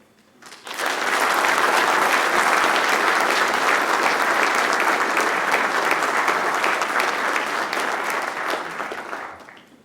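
A large audience at an ROTC Hall of Fame ceremony bursts into sustained, dense applause that holds steady for several seconds before tapering off.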